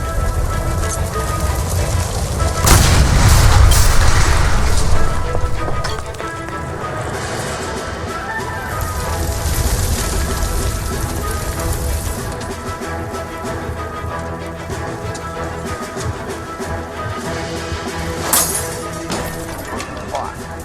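A gas line beside a stove explodes in the video game L.A. Noire, a heavy booming blast that then gives way to crackling fire, clinking debris and steady rushing noise, with voices shouting over it.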